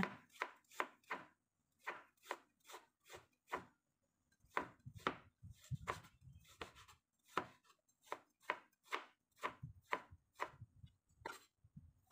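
Ginger is sliced with a knife on a cutting board for pickled ginger, a run of crisp, close chops in uneven bursts with short pauses, clear and unaccompanied by talk.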